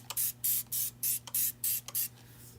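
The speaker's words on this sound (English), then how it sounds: "the simplest, easiest way to kind of give it a whitewash is just spray it down with a little bit of water" Water sprayed from a hand spray bottle onto wood for a whitewash finish, seven quick close hissing bursts in a steady rhythm over a faint steady hum.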